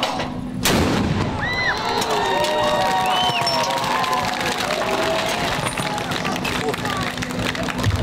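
A sharp, heavy blast booms out at a memorial event at the 35th coastal battery in Sevastopol, followed by a continuous noisy crowd with chatter and high whistling cries.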